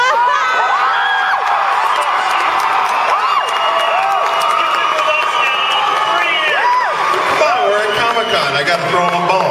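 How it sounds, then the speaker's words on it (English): A Comic Con audience cheers and whoops loudly and continuously, a dense crowd roar with shouts and some applause throughout. "Woo! The cheer it gets."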